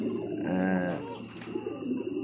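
Domestic pigeons coo from a loft of fancy breeds, a single rolling, throaty call swelling near the mic against steady background noise.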